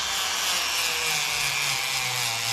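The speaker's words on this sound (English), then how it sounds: "start using this Dremel 3000 and put it on a slow speed, not too fast, and slowly sand these edges" A Dremel 3000 rotary tool on slow speed sands the edges of a leather wallet, giving a steady, close whirring and rasping grind that holds throughout without pause.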